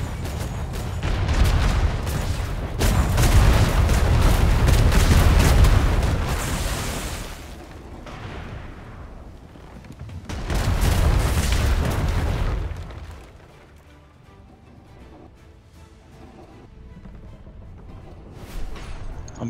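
Ship cannons boom in a naval pirate video game, with heavy explosive blasts rolling into long rumbling bursts, a second volley following after a lull, then quieter ambient noise.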